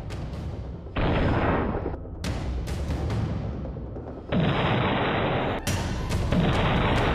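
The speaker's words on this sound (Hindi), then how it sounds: "एक टैंक आग के शोलों में तब्दील होकर एक जबरदस्त धमाके के साथ उड़ जाता है" A tank in the Armenia-Azerbaijan war blows up amid battlefield fire: several loud, sudden booming blasts and bursts of gunfire strike at irregular intervals over a rumbling background, with no speech.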